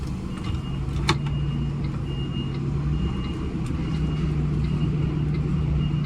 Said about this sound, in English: So we're going to reverse in on an angle, and then as soon as we're ready, we're going to bend the trailer in.